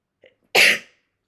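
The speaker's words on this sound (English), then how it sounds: "Oh, sneezing, bless me." A single sharp sneeze from a person, loud and close, preceded by a faint small breath or vocal sound, then silence.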